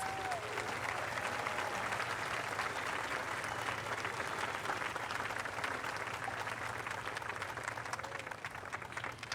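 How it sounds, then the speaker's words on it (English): Audience applause at a July 4th ceremony at the National Archives, broad sustained clapping from a sizeable outdoor crowd, even and continuous with a low background hum beneath. "One more round of applause."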